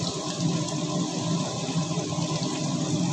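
Steady splashing and trickling of water poured into a cooking pot of ginger-sautéed food, continuous and fairly close, with no talking.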